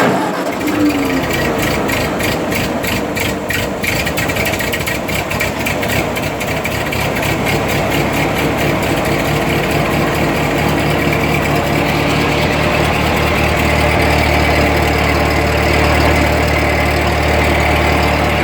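A tractor engine cranks and starts with the choke pulled, then settles into a steady, loud idle with a low rumbling drone that runs without a break for the rest of the stretch.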